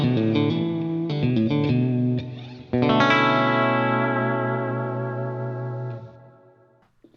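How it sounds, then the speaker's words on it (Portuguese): An electric guitar plays through a ToneX pedal running a Super Reverb amp capture, strumming a few chords with a lush reverb tail, then letting a final chord ring out and decay slowly, loud and alone. "vocês estão ouvindo somente o Tony Net, mais nada, o reverb dele."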